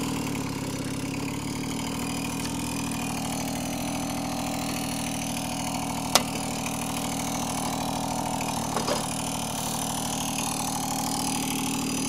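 Babetta 210 moped engine running steadily while riding, a continuous mid-pitched buzzing drone held at constant loudness throughout with brief ticks, no talking.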